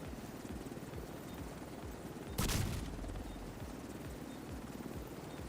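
A helicopter in The Division 2, a shooter video game, hovers with a steady, rapid rotor thump that holds throughout. A single sharp bang cuts in briefly midway over the droning blades.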